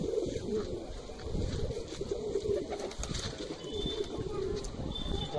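Indian high flying pigeons give soft, continuous cooing in a loft, low and murmuring under faint background noise, with a few distant chirps.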